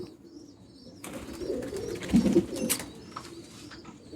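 Madrasi pigeons in a loft give soft, throaty coos that swell for a couple of seconds amid a low murmur of other birds, with a few faint clicks and rustles, close by and without talk.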